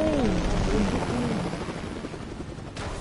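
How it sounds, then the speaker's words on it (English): A video game helicopter's steady rotor roar and whine fills the scene at close range, loud and continuous, with a voice speaking over it. "Why would you come over there with your big helicopter?"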